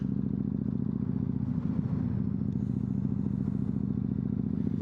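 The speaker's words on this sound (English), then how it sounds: "I did a little short actually on the bike of just a raw noise" A 2005 Yamaha MT-01 motorcycle engine idles with a steady, loud, lumpy low rumble and a mechanical clatter, running continuously and close without any talk.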